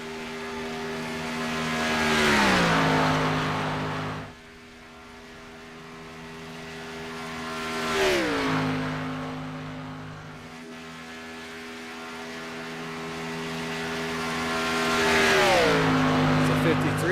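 A race car engine at full throttle roars by at Daytona in repeated passes, each swelling loud then falling in pitch as it fades, with a commentator talking over the engine noise.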